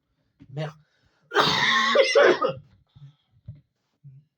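A person coughs in short bursts: a quick cough, then a longer harsh coughing fit, followed by a few small coughs spaced apart, close and fairly loud.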